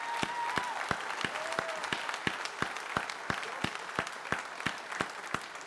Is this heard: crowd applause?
yes